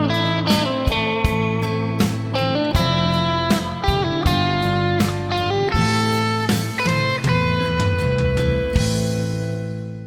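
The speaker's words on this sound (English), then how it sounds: "By incorporating slides, bends, hammer-ons, and pull-offs, you notice that I necessarily varied the rhythm and also varied the order of the notes." A guitar plays a continuous lead phrase of plucked notes, with bent and sliding pitches and fluid hammer-on and pull-off runs in varied rhythm, loud and close, with no talking.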